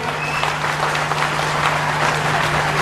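A crowd at a Hindu religious discourse claps continuously for an arriving guest, loud and steady, with a low constant hum running beneath the applause.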